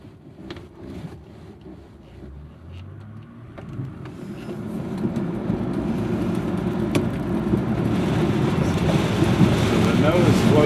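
A tow plane's engine builds on the takeoff roll while towing a glider, a rising drone that grows louder and rougher with wind buffeting over about ten seconds.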